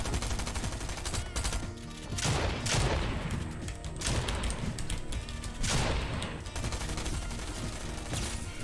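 Rapid SMG gunfire in a one-on-one shooter game match, dense bursts of automatic shots with brief gaps, loud and continuous across the whole stretch.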